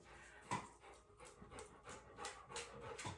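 A dog panting in quick, steady breaths, close and fairly soft, with no voices.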